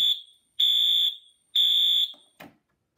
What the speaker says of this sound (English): So you'll notice the strobe makes a lot of noise, and the horn isn't very, very loud at all.